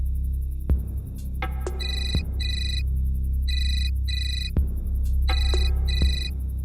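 Repeated electronic telephone ringtone in a Hindi crime drama, a bright electronic trill that rings in bursts several times, with soft thuds underneath.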